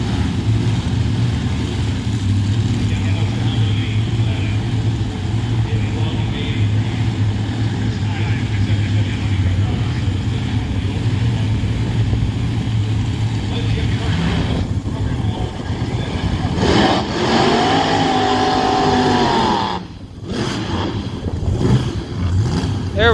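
A loud 1957 Chevy drag racing car engine roars steadily at a nostalgia drag race, then revs and surges with a rising, rasping tone before cutting briefly and picking back up.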